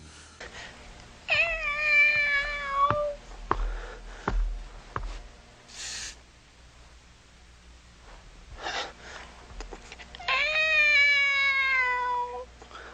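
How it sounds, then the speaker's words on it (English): A cat gives two drawn-out meows several seconds apart, each loud and close with a falling, whining pitch, separated by small thumps, rustles and a quiet stretch. "Just a cat."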